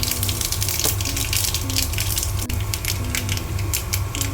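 Mustard seeds and dried red chillies sizzle in hot coconut oil in a pan with a little asafoetida. The close, continuous crackle and spatter runs without a break, and no one speaks.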